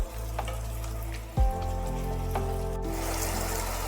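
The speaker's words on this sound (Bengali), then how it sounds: "আলু মোটামুটি ভাজা ভাজা হচ্ছে" Potatoes frying in a pan over a gas flame make a continuous soft sizzle beneath a steady droning hum, with a brief clunk partway through and no talking.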